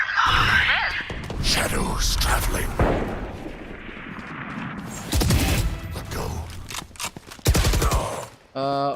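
Bursts of gunfire and fusillades from the tactical shooter Valorant, played in a Team Liquid versus Team Secret esports match, sharp and dense, with casters and players talking over the shots.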